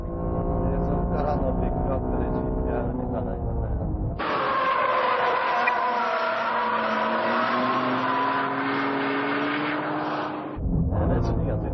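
A Honda NSX Type R climbs an uphill section of a racing circuit, its engine droning loud and close in a sustained high-revving tone, with a sharp shift and change in pitch partway through.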